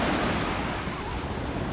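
Sea waves on the beach at Zambales wash in a steady, broad roar of surf, constant and close, with wind buffeting the microphone and no clear voices.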